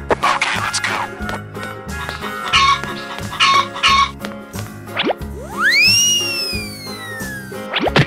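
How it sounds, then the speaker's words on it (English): Cartoon chicken clucking over bouncy background music, a few short clucks followed by a rising and falling whistle-like swoop near the end. "Chicken."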